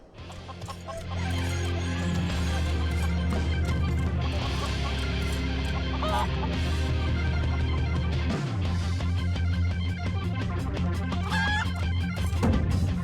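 Chicken clucking in the online game Final Fantasy XIV, repeated fowl calls over steady loud game music and battle effects, continuing throughout without speech.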